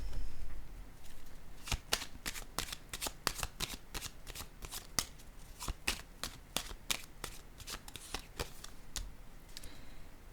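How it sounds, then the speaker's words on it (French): A deck of cards shuffled and drawn, rapid crisp riffles and flicks in close quick succession, fairly quiet and close, repeating steadily throughout without any voice. "Je vais piger une autre carte"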